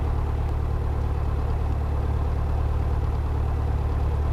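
Piper Cherokee light aircraft engine running steadily before takeoff, a loud, constant low drone close by, with no talk over it.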